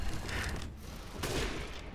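Gunfire in the video game Resident Evil Village, dense rapid bursts of loud shots in two clusters with a brief lull between, close and harsh.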